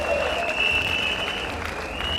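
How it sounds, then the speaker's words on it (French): Congress hall audience applauding party builders, a steady dense wash of many hands clapping at moderate loudness throughout, with no talk over it. "Nous vous demandons très respectueusement d'applaudir pour ces camarades bâtisseurs"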